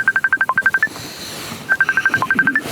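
Two quick bursts of telephone keypad dialing tones, each a rapid run of about ten short beeps, separated by a brief pause, close and clear in a comedy sitcom scene.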